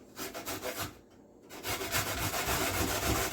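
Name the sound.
grating carrot on a grater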